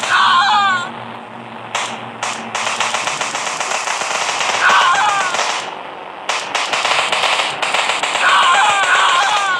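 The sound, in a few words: gunfire in video game Indian Bike Driving 3D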